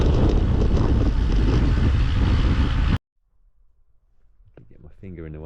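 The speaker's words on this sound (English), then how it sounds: "Check out wind of it!" Strong wind buffeting an outdoor microphone while cycling through wintry hills of the Lake District, a loud steady roar that cuts out abruptly to quiet, followed by a voice speaking.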